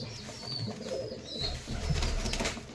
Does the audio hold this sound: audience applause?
no